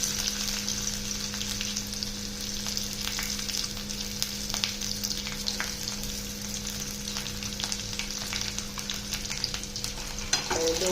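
Potatoes, onion, curry leaves and chili fry in a pan with a continuous close sizzle while a utensil stirs them, giving soft scraping and clinking over a steady low hum, with no talking.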